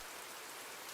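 Steady rain falling on a surface, a dense even hiss filling the whole second with no distinct drops or voices, moderately faint and continuous.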